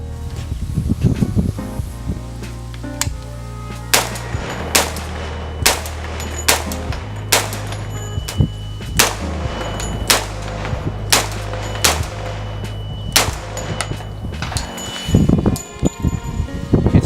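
Sharp .45 pistol carbine gunshots crack out loud and close, a string of about a dozen single shots fired in quick succession with short pauses, over a low steady background hum, with rustling and handling noise at the start and end.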